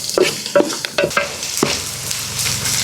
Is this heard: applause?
no